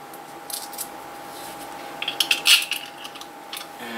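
A small metal washer handled onto a bolt while assembling a headlight for a Schwinn Stingray bicycle: a few light, close metallic clinks and taps in a short cluster over a steady faint hum.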